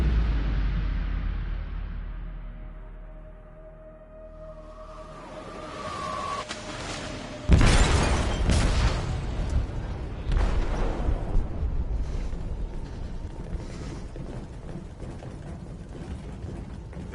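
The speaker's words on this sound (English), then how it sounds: "They detonated an explosive in the hold." An explosive goes off in a ship's hold in Detroit: Become Human: after a low rumble and rising tone, a sudden heavy boom hits, followed by a long roaring, crackling aftermath of debris and rumbling.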